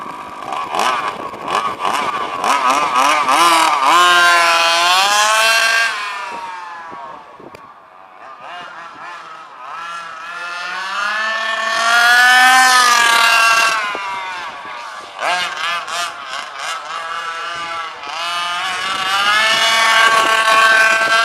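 A methanol-fuelled race engine runs with its fuel mixture richened, a loud, close, sustained engine note that swells and dips in pitch as it is revved, easing briefly mid-way before climbing again.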